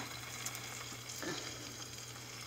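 A Loma Linda canned burger patty, shaped by hand, fries in oil in a pan with a quiet, continuous sizzle and a faint low hum underneath.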